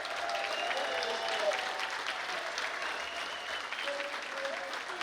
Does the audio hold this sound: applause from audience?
yes